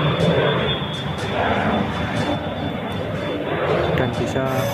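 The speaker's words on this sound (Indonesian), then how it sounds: "di sini saya akan melakukan pendaratan pesawat" A jet aircraft engine drones steadily and loudly as the plane comes in to land in the Fox One combat flight video game, with a constant broadband roar throughout.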